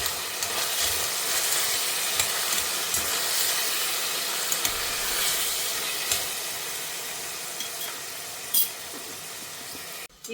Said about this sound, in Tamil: இப்போ வந்து பட்டாணி தக்காளி எல்லாமே போட்டிருக்கேன், வதங்கின்னு இருக்கு